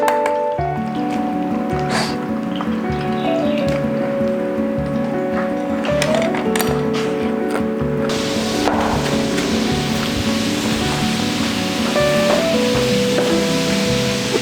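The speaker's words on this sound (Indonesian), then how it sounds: "Cuman sekarang agak hujan sih, semoga nanti bentar lagi kelar ya." Rain falling outdoors at an Indonesian seafood cooking gathering, a steady hiss that thickens partway through, under background music and kitchen sounds.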